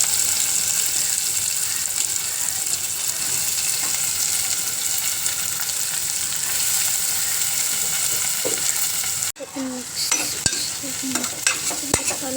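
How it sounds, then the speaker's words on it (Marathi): A large, finely chopped onion frying in a pan, giving a dense, loud, continuous sizzle that drops out for a moment near the end before returning alongside sharp clinks and scrapes of stirring. "टाकते मोठा एक कांदा, मस्त बारीक कापलेला कांदा टाकायचा इथे तुम्हाला मोठा."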